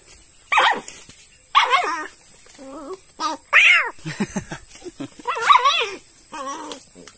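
Dogs bark and yelp in excited bursts at a snake caught outdoors, several loud, close barks with whining, pitch-bending calls spread across the moment with short quiet gaps.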